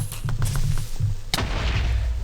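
A Minecraft creeper blowing up in a modded survival game, a single sharp burst in the middle of the clip followed by a noisy hissing decay, with low game rumble and scattered thumps before it.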